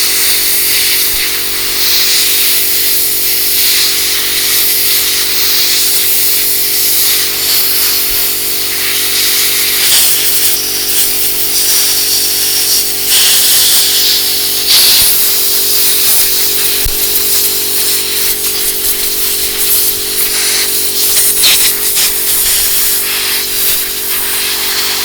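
Compressed air from a compressor blasting residual dirt and solvent out of the cracks of disassembled SIG Sauer and Smith & Wesson handgun parts, a steady loud broadband hiss lasting throughout with slight surges, with no talking.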